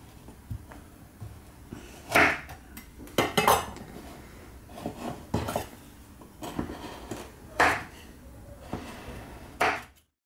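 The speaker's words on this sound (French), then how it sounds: "On va essayer de couper des petits carrés." A knife cuts a crunchy chocolate bar with spéculos pieces and peanut butter into small squares, giving several sharp cracking cuts and clinks against a board, spaced irregularly and close by, with no speech.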